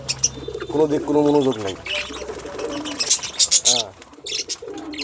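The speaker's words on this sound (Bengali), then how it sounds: "দেখেন আর পাখিগুলো সবাই খাবার ব্যস্ত আছে" Caged birds, pigeons or doves, feed and call near a person filming with the cage door open, with cooing and chirps in bursts while someone talks over them.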